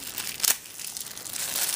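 A plastic bag holding a Gerber Bear Grylls basic survival kit is torn and crinkled open, a brief sharp rustle near the start followed by softer crackling, close and fairly quiet.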